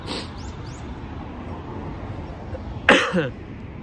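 A single sharp cough, close and loud, breaks a quiet room, followed by a brief throat-clearing rasp.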